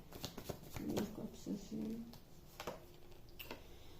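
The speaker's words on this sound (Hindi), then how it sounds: "इतने सारे कार्ड्स गिर रहे हैं" Tarot cards are shuffled by hand and several fall, making quiet flicks and soft slaps in short irregular bursts while someone talks over them.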